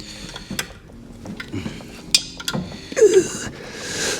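A wrench works the belt adjuster on a 1967 Chevelle's 283 engine, giving sparse, close metallic clinks and taps, with a brief louder clatter near the end.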